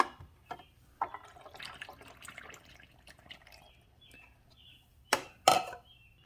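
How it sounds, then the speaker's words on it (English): Nine ounces of tap water is poured into the reservoir of a Chulux K-Cup single-serve coffee maker, a faint, close trickle and splash that ends with two sharp plastic knocks. "This is just water out of the tap, 9 ounces. And I'm going to pour it into the machine."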